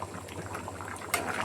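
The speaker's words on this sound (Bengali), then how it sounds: "লাউটা সিদ্ধ হয়ে আসছে।" Bottle gourd simmering with spices and shing fish in a pan, a soft continuous bubbling hiss close by, with a brief sharper sizzle burst near the end.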